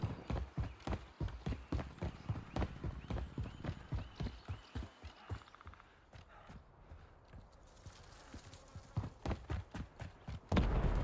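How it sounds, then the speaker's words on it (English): In a battle royale video game, quick, rhythmic footsteps patter close by, briefly thin out in the middle, then return with a louder thump at the end. "I hear the footsteps, so I know there's another player bot."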